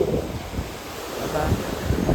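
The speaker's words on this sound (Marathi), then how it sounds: "लाटा बघा किती येतात." Ocean waves roll in along a Mumbai shore on a windy day, a rumbling surf wash mixed with heavy wind buffeting the microphone.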